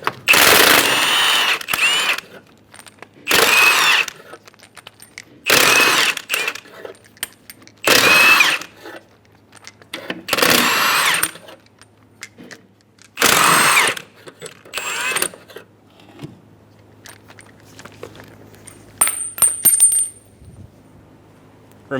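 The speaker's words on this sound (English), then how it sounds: "remove all 6 lug nuts." Bursts of a power tool spinning lug nuts off the rear wheel of a 2005-2015 Toyota Tacoma using a 21mm socket, about six loud separate runs, each a couple of seconds long, with short quiet gaps between them and no talking.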